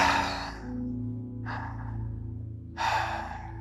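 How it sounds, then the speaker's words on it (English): Breathing in sharply through the mouth as a calming exercise for panic, three audible inhales in sequence, close and fairly soft, over a low steady hum with no talking. "So what you can do is you can breathe in with your mouth."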